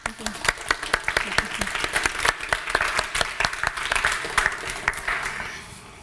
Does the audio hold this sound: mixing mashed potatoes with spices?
no